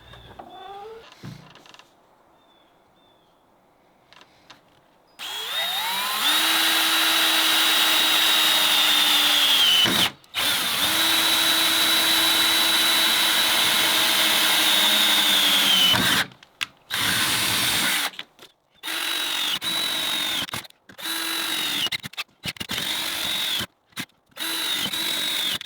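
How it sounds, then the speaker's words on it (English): A power drill bores 3/8-inch holes through a metal door while fitting a keyless mechanical keypad lever lock: a loud, steady high-pitched whine with grinding bite, running in long stretches, then stopping and restarting in short bursts. "It looks like I do need to drill all 4 of these holes, 3/8 inch diameter."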